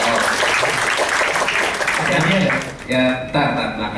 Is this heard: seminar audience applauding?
yes